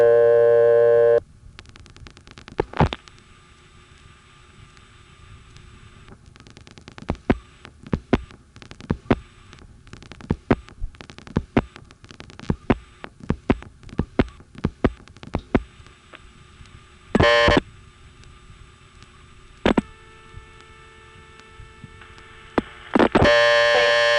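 A 1976 telephone network rings the operator again after a momentary switch-hook flash on a line, giving a long steady line hum broken by sharp clicks and periodic short ringing bursts, with no voices.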